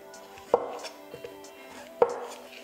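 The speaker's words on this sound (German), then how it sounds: "Die Champignons werden auch mundgerecht geschnitten." Mushrooms are cut into bite-sized pieces with a knife on a cutting board, giving two sharp, close chopping knocks with a few softer taps between them.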